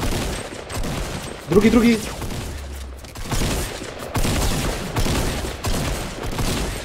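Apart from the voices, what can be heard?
gunfire in a video game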